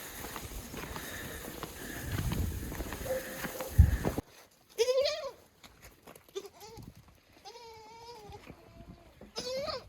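Goats on a family farm give a series of close, wavering bleats, one after another, once a burst of loud rustling and handling noise in the first few seconds dies away.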